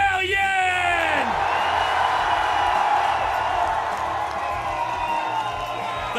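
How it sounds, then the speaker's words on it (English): An esports crowd at a Rainbow Six Major grand final cheers and whoops loudly in a sustained roar, with a voice rising over the noise near the start. "The crowd is hyped, as you can tell."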